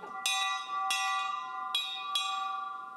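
A bell rings out in four separate clear strikes, each leaving a bright, sustained metallic tone that hangs and fades slowly between hits.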